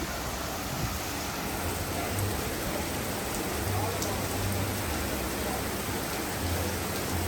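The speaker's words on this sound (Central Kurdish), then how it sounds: "ماشەڵڵا بارانێکە لە دەرەوە" Heavy rain falling outside in Kristiansand, a steady dense hiss of drops with a low rumble underneath, continuous and fairly loud, with faint voices in the background.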